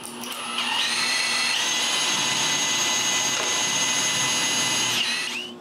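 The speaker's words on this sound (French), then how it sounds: "Après avoir coupé, je peux les mettre en place et percer pour des goujons qui vont retenir tout ça ensemble." Power drill boring dowel holes in wooden ceiling beams, a loud, steady whine that spins up, holds for about five seconds with no talk, and then winds down.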